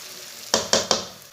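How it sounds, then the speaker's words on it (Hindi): Semolina roasting in a pan over medium heat, with a spoon stirring it: three quick scraping strokes in even rhythm, close and crisp, over a soft background hiss. "इसे मीडियम आंच पर चम्मच चलाते हुए भून लेना।"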